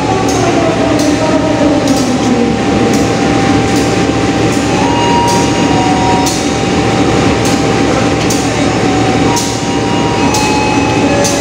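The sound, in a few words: Erlangga passenger train to Pasar Senen departing station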